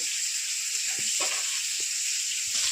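Constant hissing sizzle of tilapia fish frying in hot oil, with a few soft clinks and pops, no one speaking.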